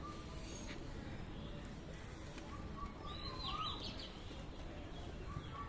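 Pigeons in a rooftop loft after rain, with a few faint chirps and coos over steady outdoor background noise and a low murmur of voices.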